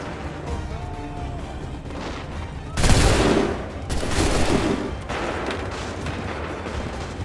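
Musket volleys in the video game Assassin's Creed III: two heavy, crackling bursts of massed gunfire a second apart, loud and rumbling, rising out of a steady din of battle noise.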